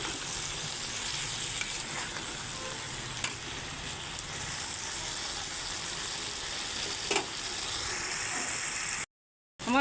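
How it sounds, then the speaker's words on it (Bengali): Cauliflower and prawns sauté in a hot pan, a steady close sizzle with occasional scrapes of stirring, running without speech until it cuts off abruptly near the end. "এখন আমি কষিয়ে নিচ্ছি"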